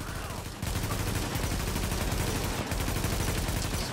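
Gunfire from the video game The Division, a near-constant rattle of rapid shots filling the whole stretch with brief gaps, with spoken voices mixed in.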